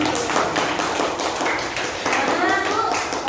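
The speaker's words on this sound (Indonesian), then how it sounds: "Tepuk tangan buat ibu" A group of students claps for a teacher in a classroom at a teachers' training workshop, with steady, dense clapping under talk, close and moderately loud.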